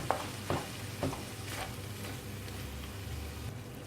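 Liquid cream being stirred into mushrooms in a pan, soft scraping strokes repeating about every half second over a faint, steady sizzle, quiet and close.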